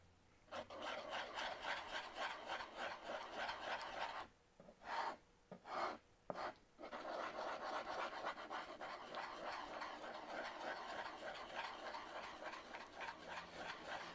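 Epoxy resin glue being stirred for a wooden bench plane glue-up: close, rhythmic scraping strokes that pause briefly midway, then resume steadily.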